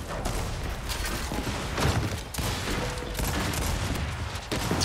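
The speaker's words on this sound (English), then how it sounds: "Shooting this Dom" Dense, continuous gunfire from the Gears 5 video game during a Control multiplayer match, with rapid overlapping shots filling the whole stretch at a steady, fairly loud level.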